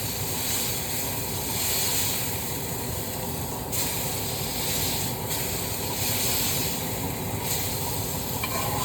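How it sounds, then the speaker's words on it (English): Grease sizzles and hisses steadily in a pan as a burger cooks, a dense close frying crackle with no talk. "The grease burning, the grease burning."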